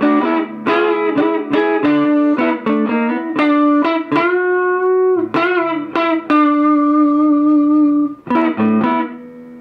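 Telecaster front pickup driven hard through a Fender Champ with the volume turned up for overdrive, no separate drive channel. Loud distorted guitar chords and single notes ring alone with sustained tones and brief gaps.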